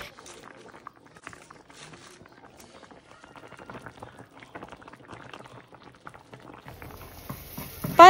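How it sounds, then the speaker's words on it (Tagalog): Sinigang broth with fried fish and mustard greens simmers in a pot with a soft, steady bubbling and popping heard up close. A louder clatter comes briefly at the very end. "Hinayaan ko lang kumulo, siguro mga 2 minutes dahil ayoko ng labsak na gulay."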